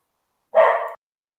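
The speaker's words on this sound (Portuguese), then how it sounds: "Perdão que o cachorro estava latindo aqui" A dog barks once, a single short, sharp bark that is close and loud against silence.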